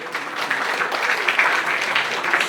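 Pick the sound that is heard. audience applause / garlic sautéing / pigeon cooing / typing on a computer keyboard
audience applause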